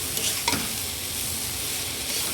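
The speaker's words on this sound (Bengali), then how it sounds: "এবার নাড়িয়ে চাড়িয়ে মার মতো কলকাঠি করে কিন্তু বেশ সুন্দর রান্না করছে" Chow mein stir-fried in a pan gives a steady, loud, continuous sizzle throughout, with a couple of brief stirring scrapes near the start.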